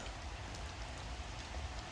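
Steady rain falls all day over a quiet farm, a dense, even patter that holds at the same level throughout with no voices or other sounds over it.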